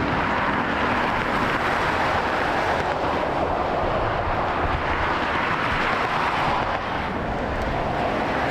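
Steady loud broadband roar of jet airliners taxiing at Las Vegas airport, a constant rumble and hiss with no breaks, heard from nearby outdoors.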